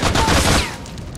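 An RPG explosion with gunfire in a shooting video game, a loud, dense blast that roars for about half a second and then fades into a quieter rumble.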